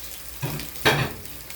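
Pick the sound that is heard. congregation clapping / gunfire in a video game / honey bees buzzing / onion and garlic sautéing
onion and garlic sautéing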